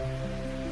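Rain plays as a steady background bed in a guided meditation, a soft continuous patter and hiss alongside sustained low musical drone tones.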